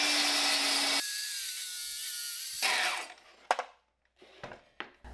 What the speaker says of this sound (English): So let's make a test cut and see how close to parallel this is.